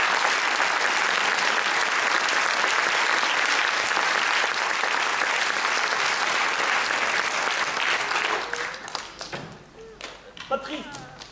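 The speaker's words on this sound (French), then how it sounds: "Je voudrais les applaudir encore très fort et merci encore." An audience applauds performers at a French community theatre event, dense sustained clapping filling the room for about eight seconds before thinning out as voices and scattered sounds emerge at the end.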